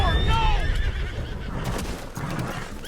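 A horse in the video game Red Dead Redemption 2 lets out a loud, close, rising and falling whinny, with hoof clops and other game noise following and a voice speaking underneath.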